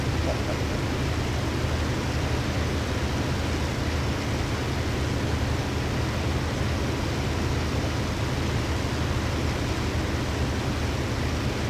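Steady, droning Spitfire aircraft engine in the DCS flight simulator, a constant broadband roar that holds at an even level without change, in flight.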